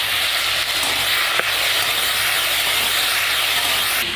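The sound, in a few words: shrimp frying in oil in a wok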